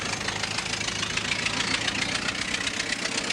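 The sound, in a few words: vehicle engine running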